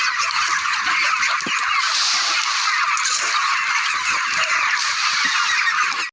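A crowded flock of chickens clucks and squawks nonstop close by, a busy, overlapping chatter as they feed.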